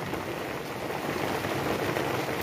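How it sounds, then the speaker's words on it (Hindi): Steady hiss of rain falling on pavement, a continuous wash of patter with no voices. "बारिश भी आ गई भाई बहुत अच्छी वाली"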